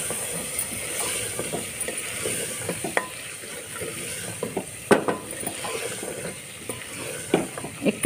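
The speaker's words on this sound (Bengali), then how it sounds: "একটু ভালো করে কষিয়ে নিতে হবে।" Peas and potatoes stir-fried in a pan for Bengali ghugni, a continuous close sizzle punctuated by irregular scraping and clacking of a spatula against the pan, no voices.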